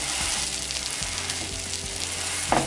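Mutton keema dosa for Madurai kari dosa cooks in oil on a pan, a close steady sizzle with soft thumps as a ladle presses it down, no talking.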